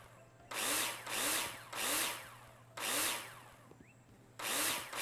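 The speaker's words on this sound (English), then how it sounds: "Lots of screws to screw in now." Power screwdriver in the video game Builder Simulator driving screws one after another, five loud whirring bursts, each winding up and running about half a second, close and alone against a faint steady hum.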